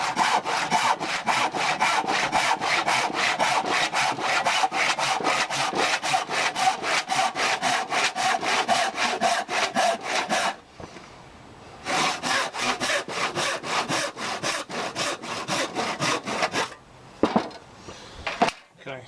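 Steady, rhythmic strokes of a hand saw cutting through scrap wood, close and loud, pausing briefly before resuming, then stopping with a clatter.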